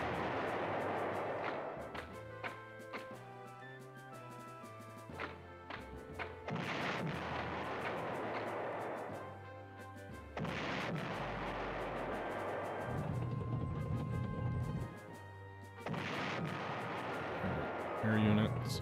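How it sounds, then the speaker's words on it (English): Artillery booms out in the PlayStation strategy game Panzer General, with repeated heavy thuds and blasts set against game music while someone talks over it. "Artillery took out half that cavalry."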